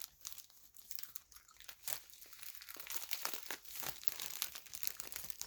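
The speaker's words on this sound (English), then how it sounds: "Nice crinkly plastic here." Crinkly plastic packaging on a videogame or book box is handled up close, with bursts of crackling and rustling that grow busier and denser over several seconds; no talking.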